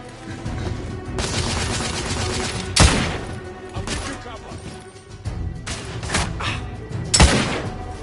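Gunfire rattles through a video game battle: rapid volleys and sharp shot bursts, with a couple of heavy thumps, under shouted voices.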